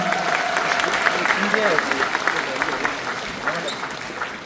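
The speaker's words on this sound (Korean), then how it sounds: "서로에게 힘찬 응원과 격려의 박수 부탁드립니다" Applause at a political party convention in a convention hall: a full crowd claps loudly and steadily throughout, with voices and cheering mixed in under the clapping.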